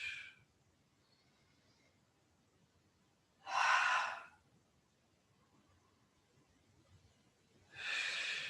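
Breath is exhaled audibly during a yoga flow, three separate forceful breaths spaced a few seconds apart, close and clear against near silence.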